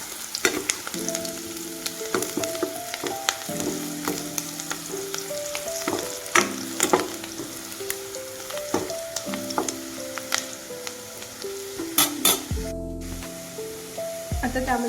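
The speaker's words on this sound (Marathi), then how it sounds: "कांदा भाजलाय तर मी त्यामध्ये हळद टाकून घेते" Onions fry with turmeric in a pan, giving a continuous sizzling hiss broken by clinks and scrapes of a spoon stirring, close and fairly loud, with a voice talking over the cooking.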